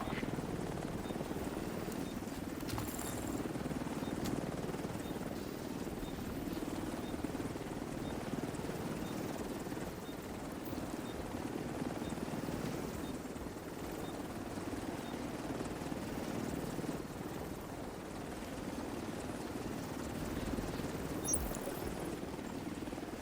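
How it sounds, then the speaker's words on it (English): A helicopter flies back to base after an extraction in the video game The Division 2. Its rotor drones steadily at a distance, fairly quiet but unbroken throughout, with faint game sounds around it. "Extraction done. Helo is returning to base."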